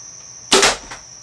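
A single compound bow shot: a sharp, close thwack with a short rattling release that fades quickly over a faint steady hiss.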